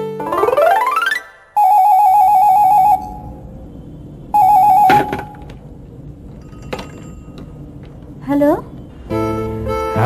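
A telephone rings loudly in repeated electronic bursts separated by short pauses, with a few clinks and thuds between the rings and no talking.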